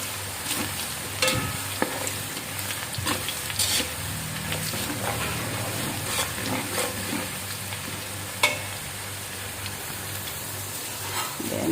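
Garlic sizzles and crackles steadily in hot oil in a pan for Filipino vegetable lumpia, with occasional stirring scrapes and pops throughout, close and continuous with no talking.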